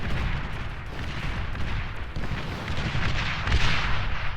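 Artillery and tank fire in the Beyond All Reason strategy game, a dense rumbling barrage of blasts and booms that rolls on continuously, loud and busy, with a heavier hit near the end.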